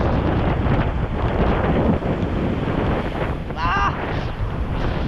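Strong tropical storm wind roars against the microphone with crashing surf at Dinahican, Infanta, Quezon, a loud continuous rush with no break.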